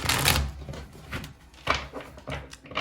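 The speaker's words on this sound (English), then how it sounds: "have your person in your mind while I shuffle those cards" Tarot cards are shuffled by hand in quick, papery riffles and slaps, a few bursts close up with short pauses between them.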